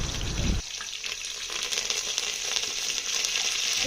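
Curry leaves dropped into hot tempering oil, a sudden loud crackling sizzle that stays steady and bright throughout, with no talk.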